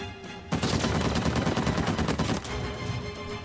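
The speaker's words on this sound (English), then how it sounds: "Am I getting shot at from out there?" Enemy gunfire in the video game Uncharted 4, a loud sustained burst of rapid automatic shots starting abruptly and rattling for about two seconds before tapering into a noisy tail.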